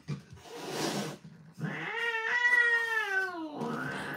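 A pet cat lets out a long, drawn-out, wavering meow close by, preceded by a softer hiss-like breath and followed by another short vocal sound.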